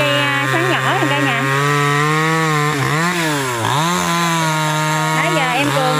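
A chainsaw engine runs steadily and loud close by, cutting a small tree, its pitch dipping and rising as it revs and bites into wood.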